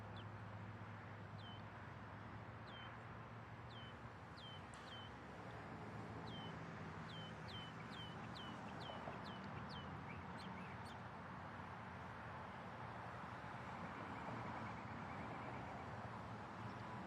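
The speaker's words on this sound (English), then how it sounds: "the birds are singing real nice. They're happy this morning." Morning birdsong near an airport in Louisville, Kentucky: repeated short chirps and whistled calls, some in quick runs, over a steady background hum with distant traffic, no talk.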